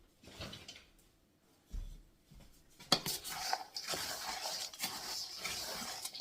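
A utensil clinks and scrapes against a bowl while fruit cake batter with nuts is mixed, a few sharp knocks and a steady run of clattering stirring building up close through the latter half.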